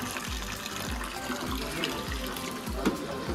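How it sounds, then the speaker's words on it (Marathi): Cold water pours steadily from rock at a mountain ghat stop. Close, continuous gushing and splashing with rhythmic low surges and no voices. "थंड कातळाचं पाणी आहे."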